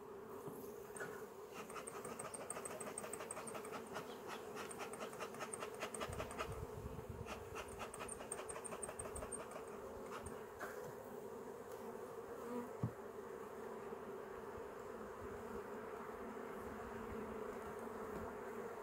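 Honeybees drone steadily around an open hive during a frame inspection, a dense, continuous buzz that stays low and even throughout.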